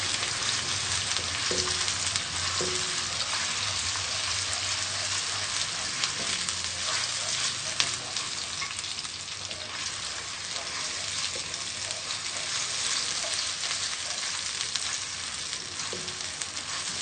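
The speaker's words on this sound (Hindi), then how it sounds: "अब हम इसमें प्याज का पेस्ट शामिल करेंगे, हल्का सा फ्राई करेंगे।" Onion paste for a Pakistani kofta curry sizzles and fries in a pan, a steady crackling hiss with occasional soft clinks of a spoon stirring, close and continuous without talk.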